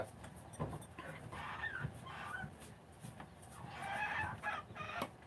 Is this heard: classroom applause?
no